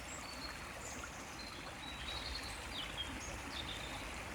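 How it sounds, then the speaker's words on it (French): A babbling stream trickles and gurgles steadily in the background, with faint bird calls chirping now and then. "écoutez le chant du ruisseau"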